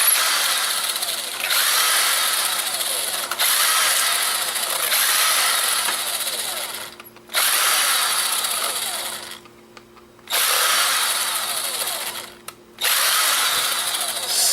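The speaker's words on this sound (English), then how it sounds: "So let's unscrew some of this stuff." A power tool drives screws out of a small battery casing, running in long steady whirring bursts with brief pauses between them, loud and close with no talk.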